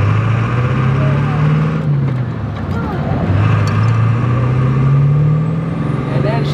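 Diesel truck running a PHP Hydra tune, its engine droning loud and close as it accelerates, pitch rising and falling through gear changes while a voice talks over it.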